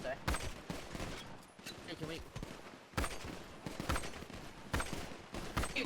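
In the Summer City video game, bursts of gunfire crack and rattle in clustered volleys, fairly quiet overall, with players talking over the shots.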